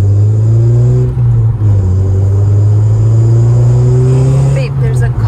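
Ninth-generation Honda Civic Si with a loud aftermarket exhaust setup, heard as a steady, deep droning rumble while cruising, loud and continuous with slight rises in pitch and no talk over it.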